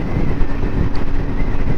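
A Suzuki GSX1400 motorcycle cruises in top gear at under 3,000 rpm, a dense steady low drone with a rough, pulsing texture and wind roar, loud and close, with no voice over it.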